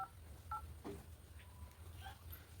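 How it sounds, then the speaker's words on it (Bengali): Telephone keypad tones beep faintly as a number is dialed, several short separate tones at an uneven pace over a quiet background. "দীপা খন্দকার একটু ফোন দিতেছি।"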